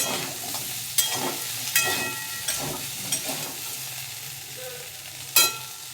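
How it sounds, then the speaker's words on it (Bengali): Potatoes and soya chunks frying in oil in a pan crackle and hiss steadily, with repeated clinks and scrapes of a stirring spoon and a louder clatter near the end. "আলু সয়াবিনটাকে আমি খুব ভালো করে ভেজে নিয়েছি, এবারে তুলে নেব।"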